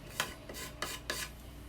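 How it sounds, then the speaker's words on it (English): A putty knife scraping wood filler off a dresser, four short rasping strokes in quick succession, close and fairly quiet, with no talk. "You're laying it flat to fill the holes, and then you're turning it upright to scrape off the extra."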